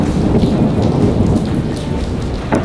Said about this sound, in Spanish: Es que no paran de haber todo el rato tormenta tras tormenta.